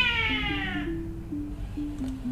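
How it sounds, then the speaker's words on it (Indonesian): Cats fighting, with drawn-out, wavering yowls and caterwauls that run continuously and fairly loud across the whole moment, with no voices. "ada kucing berantem."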